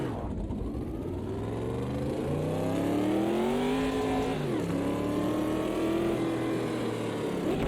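A classic Chevrolet Corvette C3 GT race car with a four-speed gearbox at Bathurst in a racing sim, its V8 engine droning loud and close as revs climb steadily, dip briefly at a gear change, then rise again.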